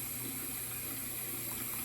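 Water running from a tap into a sink while shaving lather is mixed for a straight razor shave, a steady continuous hiss and trickle with no voices.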